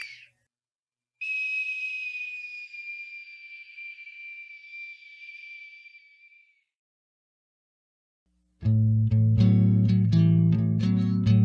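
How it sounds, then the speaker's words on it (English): A single high whistle tone slides slowly downward and fades, then after silence a loud burst of bright musical instruments begins. "He just kept walking around playing the whistle."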